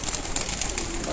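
Pigeons coo in a loft kept for pigeon-flying competition preparation, a soft steady murmur of calls close by with no talk over it.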